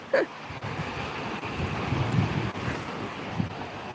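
Sea waves wash and foam with a steady hiss at Hamsilos Fjord in Sinop, buffeted by gusty wind noise and a brief thump near the start.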